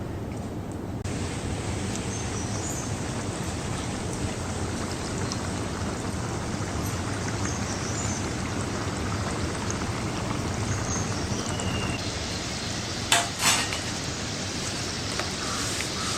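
Chirote, layered Maharashtrian pastries, frying in hot oil: a steady, dense sizzle and crackle runs throughout, close and even, with a brief clatter near the end and no talking.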